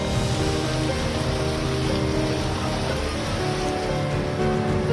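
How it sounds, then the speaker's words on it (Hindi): Steady, dense rain falling during an unusual October downpour in Delhi, a continuous even hiss with no gaps, moderately loud and close, with no voices over it. "दिल्ली में भी अक्टूबर महीने में बारिश की बूंदों ने लोगों को सराबोर कर दिया"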